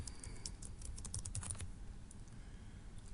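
Fast typing of a password on a computer keyboard, a quick run of close, crisp key clicks that thins out toward the end, over a steady background hum.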